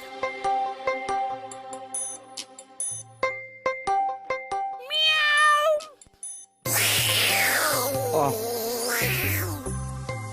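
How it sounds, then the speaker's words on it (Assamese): A cat meows several times amid music and electronic tones, with a louder, drawn-out meow near the end over a noisy background. "মেকুৰীটো ক'ৰ পৰা আহে"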